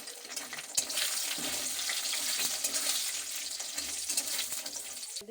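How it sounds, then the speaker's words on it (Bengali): Lentil bori fry in hot oil, giving a steady, fairly loud hiss and crackle that runs unbroken, with occasional soft stirring knocks. "তেল গরম করে তেলের মধ্যে বড়িগুলোকে দিয়ে বড়িটা ভেজে নিচ্ছি লাল লাল করে"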